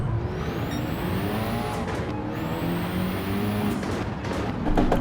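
Engine drone of a Ford Focus rally car racing in Gran Turismo 7 at Catalunya, a steady roar with two rising gear-change pitch sweeps and a faster car alongside, continuous and close without any talk.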